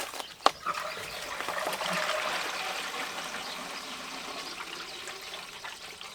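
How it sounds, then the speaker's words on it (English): Water rushing through household pipes as the supply is turned back on after gluing a repair, a brief clunk then a steady hissing flow that slowly fades to a quieter trickle. "What I'm going to do is turn the water back on."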